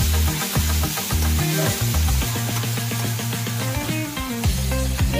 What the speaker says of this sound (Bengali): এরপর আমি পেঁয়াজগুলো একটু ভেজে নিচ্ছি, একদম মিহি করে কেটে নিয়েছি পেঁয়াজটা আমি।